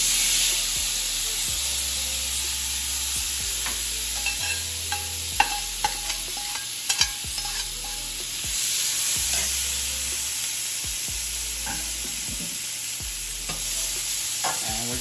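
Vegetables for vegan fajitas hiss and sizzle steadily in a hot skillet, with occasional scraping and clinking as they are stirred, close and without talk.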